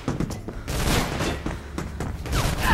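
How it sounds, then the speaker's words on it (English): Rapid enemy pistol fire in the video game Mirror's Edge crackles in a dense, loud fusillade of overlapping shots with booming impacts, continuous through the short stretch. "Who is sniping with a pistol now, apparently. That has a very high fire rate"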